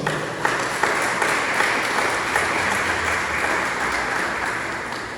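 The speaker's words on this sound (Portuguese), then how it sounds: "Você pode aplaudir ao Senhor?" Church congregation applauding together at an evening worship service, a dense, steady wash of many hands clapping at close range with no talk over it.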